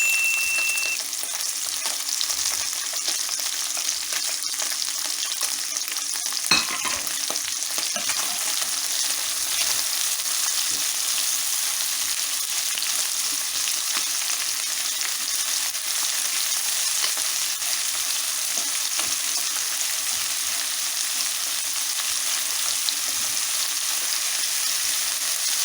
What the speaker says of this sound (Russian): И вот так вот лук я буду обжаривать буквально пару минуточек